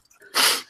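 One sharp, close human sneeze, a quick intake followed by a loud burst of air that fades out, heard alone.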